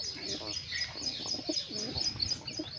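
Pigeons coo and chirp near a box where a red pigeon has just been placed during rainy weather; soft, repeated low calls sit close over a light steady hiss, with no talking.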